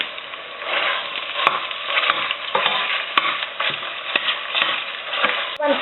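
Ground pork or beef sizzles and browns in a hot pan while being stirred and scraped, a close, steady fry punctuated by sharp utensil clicks.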